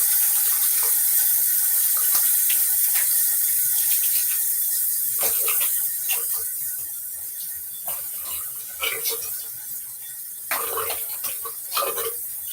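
A bathroom tap runs cool water into a sink for rinsing after a shave, a steady close hiss of flowing water broken by splashes and clatters as hands and a razor move under the stream.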